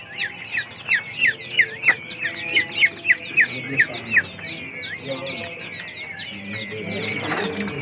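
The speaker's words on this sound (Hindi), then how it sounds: "इसके बाद इसमें मुर्गी के भी चंद बच्चे हैं" Young chickens, two to four chicks among birds kept for sale, give rapid high chirps and clucks close by, a busy run of peeping calls that thins out into softer background noise.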